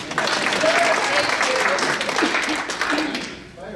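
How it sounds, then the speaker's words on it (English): Audience applause at a university talk or presentation, a steady crowd of hands clapping that fades toward the end, with a few voices faintly mixed in. "Got a round of applause for Becky"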